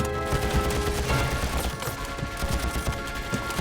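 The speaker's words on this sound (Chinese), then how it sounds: "对面仓房也有枪声" Rapid, dense gunfire crackles continuously in a busy, chaotic mix, with booming impacts scattered through and no clear pause.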